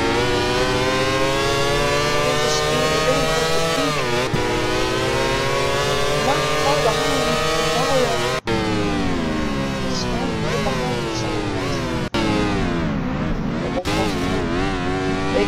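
Onboard a race car climbing the hillside course at the 2019 Northern Vermont Cliff Roads Road Race, the engine revs hard and loud through repeated gear changes, each rising whine cut by a brief shift.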